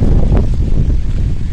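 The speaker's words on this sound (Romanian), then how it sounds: "dar bate vântul ăsta, bă." Strong wind buffets the microphone outdoors at a lakeside fishing camp with a tent, a loud continuous low rumble with gusty fluctuations throughout.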